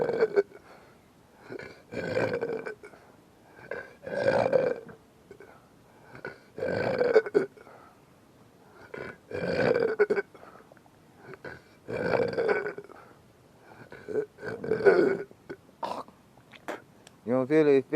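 A person belches repeatedly, with about eight loud, drawn-out, throaty burps spaced a second or two apart and quieter breathy, grunting sounds between them.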